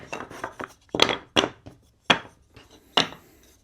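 Cut wooden star pieces are sorted by hand on a work surface, giving a series of sharp wooden knocks and clacks in irregular rhythm, close and moderately loud, with soft rubbing between the taps.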